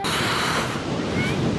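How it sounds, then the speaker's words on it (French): Big ocean waves roll in at Nazaré, Portugal, a loud rumbling surf roar mixed with heavy wind buffeting the microphone on a cold shoreline. "on est passé de l'autre côté de la rive où on était et il y a les grosses vagues"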